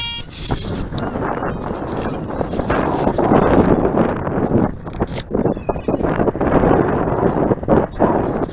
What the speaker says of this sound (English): let's try and shield the wind from me